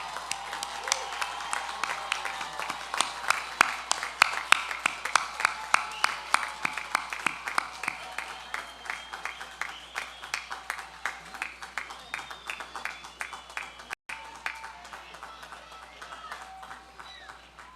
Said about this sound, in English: turn and face your families and friends to say thank you once more for their support with a resounding round of applause